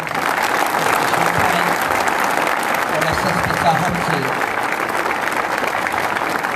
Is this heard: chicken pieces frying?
no